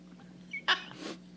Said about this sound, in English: Now I got to sneeze.